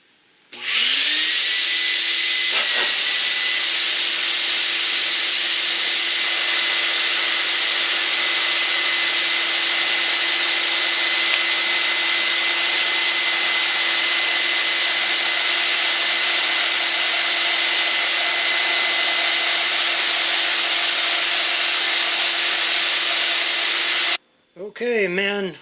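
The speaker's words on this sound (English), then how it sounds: "we've got all of our preparatory sanding done" A power sander works wood for the wing ribs of a Corben Cabin Ace homebuilt aircraft: a loud, steady whirring drone spins up, runs unbroken for about twenty seconds, cuts off, then briefly restarts.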